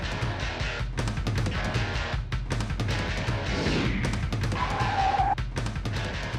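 A Chevy spins out with tires skidding and squealing, engine roaring in bursts, with a sharp, rising screech of rubber near the end.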